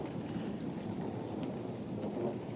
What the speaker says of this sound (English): We've got a storm coming through. You can probably hear the thunder.